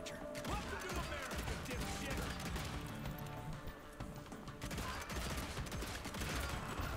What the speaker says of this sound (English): Hold E for fanning and tap E for single shots.